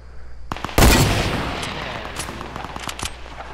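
A sharp burst of gunfire from other players fighting in Fortnite, led by a loud close shot, then a scatter of quicker, fainter shots that echo off into the distance.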